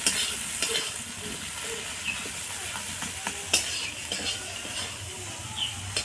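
Fenugreek leaf filling being stirred and fried dry in a pan, a steady soft sizzle under scraping spoon strokes and occasional light clinks of utensil on metal, with no voices.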